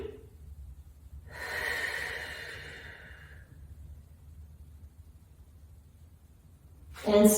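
A slow, deep breath drawn in and let out during a leg stretch on the floor, close and soft, followed by a sharper exhale at the end.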